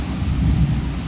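Loud thunder rolling during a heavy rainstorm, a brief deep rumble that swells and fades over steady rain noise, with nobody talking.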